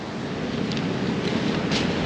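Strong wind buffets the microphone on a surf beach during bass fishing, a steady broadband rush with faint gusty swells and no speech over it.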